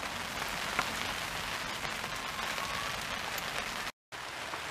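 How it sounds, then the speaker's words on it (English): Rain falls steadily outdoors during a garden barbecue, a close, even patter and hiss on surfaces with no voices. "It's raining again."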